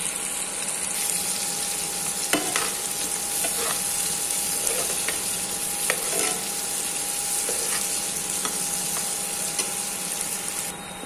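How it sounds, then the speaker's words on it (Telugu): Onions and two green chillies fry in oil for a ridge gourd and dried prawn curry, a steady loud sizzle punctuated by several sharp spatula scrapes and taps, with no speech. "2 పచ్చిమిర్చి అవన్నీ వేసేసుకొని ఇప్పుడు వేపేసుకోవాలి"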